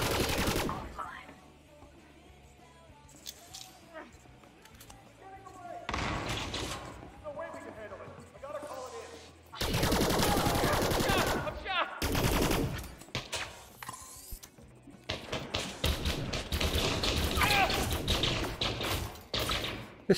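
A pistol fires in the video game Elite Dangerous, with rapid bursts of sharp gunfire in dense clusters among quieter game sounds, loud and close, alongside some speech.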